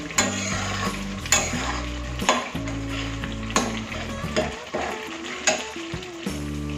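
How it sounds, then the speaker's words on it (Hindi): Spices frying and being stirred in a pan for Rohu fish curry, a steady close sizzle with repeated scraping strokes of a utensil, loud and continuous, no talk. "काफी मसालों को अच्छे से भून लेंगे।"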